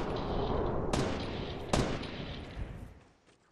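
Gunfire in the Fortnite video game: two sharp shots stand out over a dense, noisy battle mix, with further faint pops near the end.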